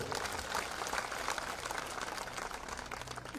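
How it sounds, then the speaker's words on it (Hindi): Dense applause from a large crowd at a BJP political rally in Amer, Jaipur, continuous clapping at an even level throughout, with no talking over it. "एक बार मंच वालों के लिए जोरदार तालियां बजाओ"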